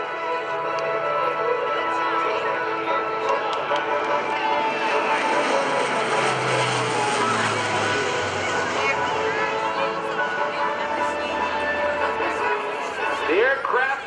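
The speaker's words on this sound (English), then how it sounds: "Coming from the right, here comes the Super Herc." A Lockheed C-130J-30 Super Hercules of the 143rd Airlift Squadron passes by at a Rhode Island airshow, its propeller engines giving a loud, sustained drone that swells and shifts pitch while an announcer talks over it.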